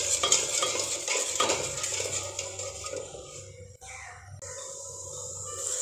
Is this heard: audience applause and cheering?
no